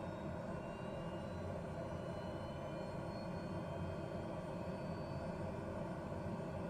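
A TBM turboprop engine during start in Microsoft Flight Simulator hums with a steady dense roar and faint high whine, holding an even level throughout with no voices.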